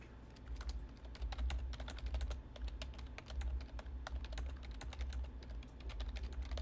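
Rapid typing on a computer keyboard placed between the typist and a FiFine T683 USB condenser microphone, a steady stream of dense clicks over a constant low hum, with no talking.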